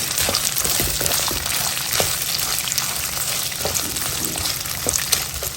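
Raw green peas hit hot oil in a frying pan and sizzle steadily and loudly, with stirring scrapes and small crackles running throughout and no talking.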